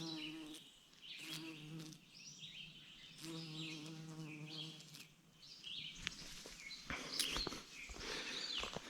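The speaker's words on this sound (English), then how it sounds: "All kinds of bees in here." Bees buzzing around a stagnant, algae-covered pond at a forgotten campsite, faint buzzes rising and fading as insects pass close by, in repeated bursts over a quiet outdoor background.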